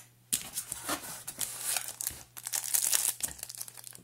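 Plastic wrapping crinkles and crackles close up as a Star Trek Jellyfish model ship from the 2009 movie is pulled free, a busy run of rustling bursts lasting several seconds.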